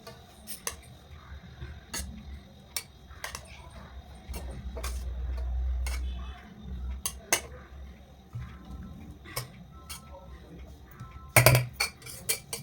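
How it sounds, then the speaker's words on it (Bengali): Dishes and cutlery clinking as rice is served onto a plate for a lunch of fish curry, scattered sharp taps and scrapes, close, with a louder clatter near the end and faint background noise. "তো এবার আমি আমার ভাতটা বেড়ে নিই।"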